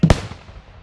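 A historical cannon fires at a reenactment festival, one sharp, loud, booming blast at the start that decays into a rumbling echo.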